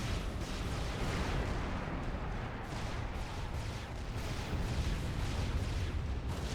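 Missiles lobbed in a strategy video game during a heavy-weight match, heard as a continuous dense roar of explosions and artillery-like blasts, loud and unbroken throughout with no clear gaps.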